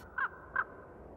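Raven cawing in an animated film, two short harsh caws about a third of a second apart over a faint steady background hum.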